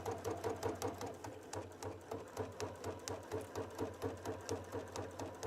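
A Baby Lock sewing machine stitches a tote bag seam in rapid, even rhythmic bursts, close and fairly quiet, with a steady motor hum beneath the repeating needle clatter.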